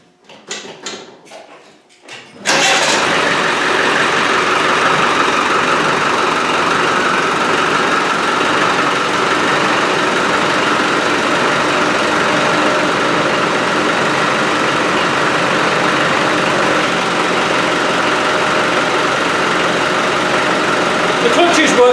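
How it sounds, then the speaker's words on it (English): Land Rover 300Tdi diesel engine starting and then idling loud and steady, a dense unbroken clatter that holds for about twenty seconds after a few quieter knocks and clicks. "So we're going to start the engine up."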